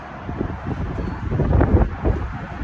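Gusty wind buffets the microphone in low rumbling surges, swelling and easing over a few seconds, with faint rustling beneath.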